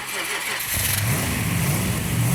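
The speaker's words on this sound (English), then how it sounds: "The engine fires right up and sounds great" A car engine running and revving with a steady low rumble that rises in pitch, fairly close, with a voice talking over it.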